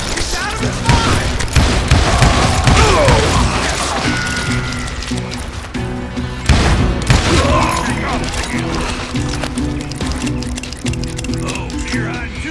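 Rapid volleys of western gunfire from the game Call of Juarez: Gunslinger crack repeatedly, loud and close, with spoken voices mixed in over the shooting.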